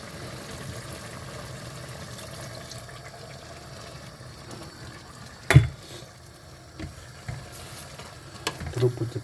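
Pork with spices and about one and a half glasses of water bubbles gently in a pan while being stirred, a quiet simmer broken by one sharp scrape of the utensil and a few later clinks.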